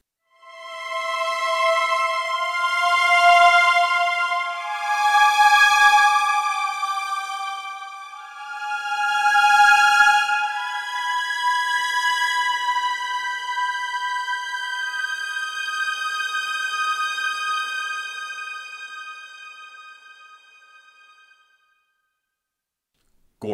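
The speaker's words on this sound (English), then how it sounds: "So then we're using, here we have our orchestra violins," Sampled VSL orchestral first and second violins play sustained, lush legato lines that swell and fade over about twenty seconds, smooth and alone with no talk.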